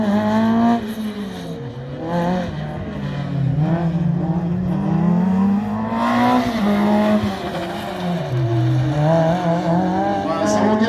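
A race car at a slalom event in Ancenis works the course, its engine revving up and down in repeated climbing and falling sweeps as it accelerates and brakes. A commentator talks over it throughout.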